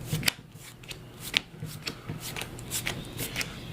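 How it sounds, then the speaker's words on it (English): Quick riffling snaps of trading cards being power-shuffled, close and fairly soft, in several bursts with short pauses between. "I'm actually going to give this a quick little power shuffle."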